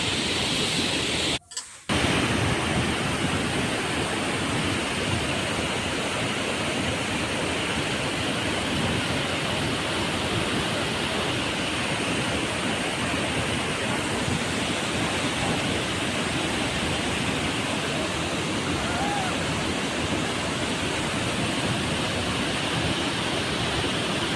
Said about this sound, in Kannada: ನೋಡಿ ಎಷ್ಟು ಜೋರಾಗಿ ಹರಿತೀವಿ ನೀರು